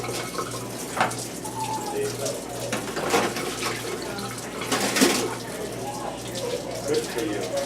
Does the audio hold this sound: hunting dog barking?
no